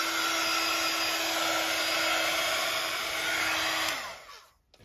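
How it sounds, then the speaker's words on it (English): A heat gun blows loudly and steadily while drying a rustic grunge bunting craft project, a close, even whine-and-rush that holds for several seconds before being switched off and trailing away. "So now I'm just gonna dry it with my heat gun."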